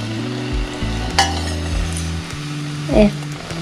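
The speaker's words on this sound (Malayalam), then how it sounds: "അപ്പോൾ എണ്ണ ചൂടായിട്ടുണ്ട് നമുക്കിനി ഡോണട്ട് ഉണ്ടാക്കാൻ തുടങ്ങാം" Mini donut batter drops into hot oil in a home kitchen, with a soft steady sizzle of frying under clinks of a utensil against the pan, close and fairly loud.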